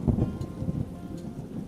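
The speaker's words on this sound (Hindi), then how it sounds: "बारिश की बूंदें टिन की छत पर संगीत पैदा कर रही हैं" Steady rain on a tin roof, a dense continuous patter with low rumbling undertone, fairly loud and even throughout with no voices.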